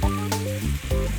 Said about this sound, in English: So we just want to wilt our spinach real quick.